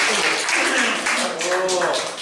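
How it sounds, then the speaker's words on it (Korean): Audience clapping at a Korean lecture on international affairs breaks out after a quiz answer is confirmed, a dense steady patter over about two seconds with voices talking over it. "박수 한 번."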